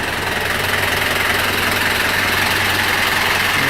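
Small engine on a mini Mack big rig build idles steadily close by, a continuous rough, fruity rumble with a faint knocking pulse and no talk.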